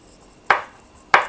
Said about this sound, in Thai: พริกขี้หนูก็จะ หั่นให้เป็นชิ้นๆเลยนะคะ